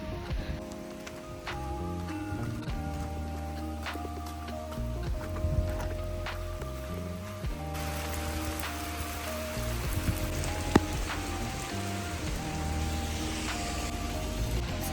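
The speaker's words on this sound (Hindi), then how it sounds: "अभी हो रही है बहुत तेज बारिश" Heavy rain hisses steadily and continuously, with faint tonal sounds running underneath throughout.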